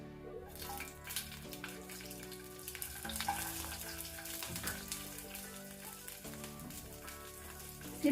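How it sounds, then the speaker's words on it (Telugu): Green chilies and half a spoon of cumin seeds frying in hot oil on low heat for coconut chutney, a soft, steady crackling sizzle that stays faint under background music. "సిమ్ మీద పెట్టేసి కొంచెం కలర్ వచ్చే వరకు మిర్చి వేయించుకోవాలి"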